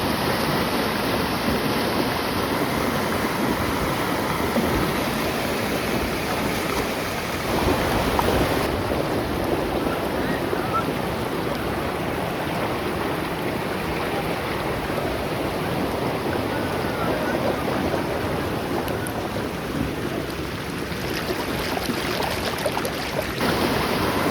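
Floodwater rushing through a village stream channel after three days of continuous heavy rain, a loud, steady, broadband roar with wind buffeting the microphone throughout and no let-up.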